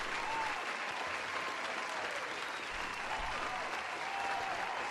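A small crowd at a Dungeons & Dragons homebrew session claps in a continuous round of applause that stays fairly even in loudness from start to finish.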